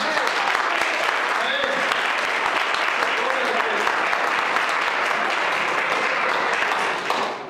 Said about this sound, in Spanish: denle un aplauso a mi Padre Jesucristo